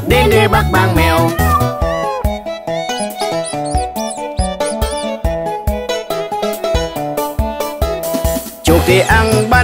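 A cartoon cat meows several times over a bouncy children's song with plucked and tinkling instruments, the mewing cries rising and falling against the loud, rhythmic music.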